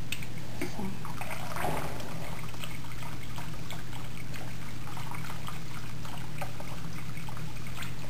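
Melted beeswax from rendered cappings pours and trickles steadily through a straining cloth over water, a continuous liquid dribble with a low steady hum beneath it.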